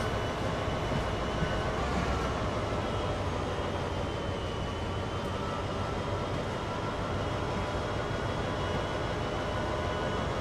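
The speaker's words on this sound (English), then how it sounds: "You can actually ride the back of a train with this camera view." A continuous loud, dense rumble of a train rolling along steadily in Train Sim World, heard from the back of the train, a broad roaring drone with no breaks and no voices.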